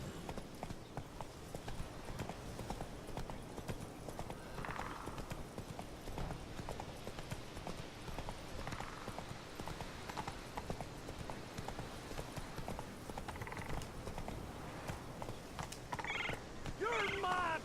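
In Witcher 3, a horse gallops in a steady, rhythmic clip-clop of hooves. Faint voices and game sounds sit underneath, and a whinny-like call rises near the end.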